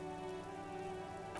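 Steady rain falls over a city and water in the game Disco Elysium, a soft, even hiss of drops under a low tonal music bed, continuous and faint.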